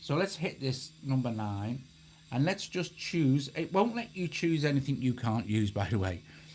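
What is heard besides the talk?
None of the usual background noises is heard.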